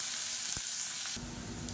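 Finely chopped onions sizzle and fry steadily in hot oil for a beetroot curry, a constant close hiss that brightens and grows louder partway through.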